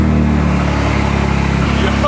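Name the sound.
car engine starting with straight-pipe exhaust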